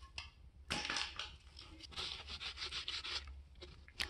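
Scraping old gasket maker off a differential cover in a shop, a close, gritty run of rough scrapes and rubs in short irregular strokes, with a few brief pauses between passes.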